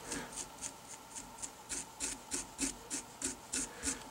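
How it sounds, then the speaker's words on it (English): A comb is drawn repeatedly through synthetic fiber on a baitfish streamer fly, giving about a dozen soft, even scratchy strokes in a steady rhythm, close up and alone. "and then comb it all back"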